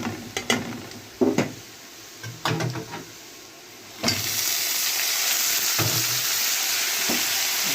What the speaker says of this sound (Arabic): دلوقتي البسله اهي بشوحها